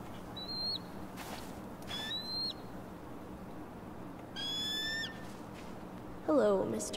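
A few thin, whistling eagle cries ring out in the video game Tell Me Why, spaced a couple of seconds apart over a steady, low ambient hum.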